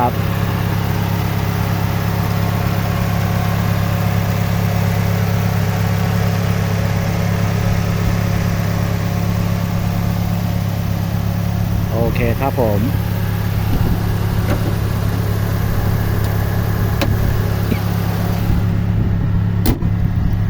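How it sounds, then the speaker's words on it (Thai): A Toyota Corona manual-transmission car engine idles steadily with a low, even hum throughout, while someone speaks briefly near the end. "ลูกค้าลองฟังเสียงเครื่องได้อีกรอบนะ"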